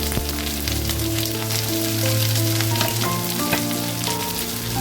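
Chopped onion and two green chillies sizzle and fry steadily in a hot pan, a loud, continuous crackle with occasional stirring and no talk.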